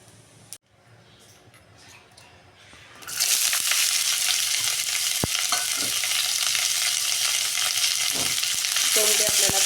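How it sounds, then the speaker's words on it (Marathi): Sliced ivy gourd frying in hot oil in a wok: quiet stirring at first, then a loud, steady broadband sizzle that continues to the end, with a few scraping clinks of a spatula near the close. "तोंडली आपल्याला आता थोडी परतून घ्यायची आहे"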